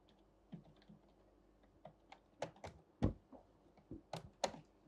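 Computer keyboard typing in an office setting, a handful of sharp key clicks and a few louder strikes in an irregular rhythm, close and fairly quiet with no talking.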